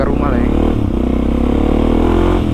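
A Suzuki DRZ 400 supermoto runs while being ridden, its single-cylinder engine giving a loud, close, steady throaty drone with rising revs, and someone talks over it the whole time.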